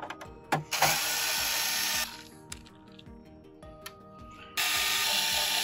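An electric screwdriver whirs in short bursts as it backs screws out of a PS5 Slim circuit board during an HDMI port repair, with a faint tick and clatter between the loud close-up runs and no talking.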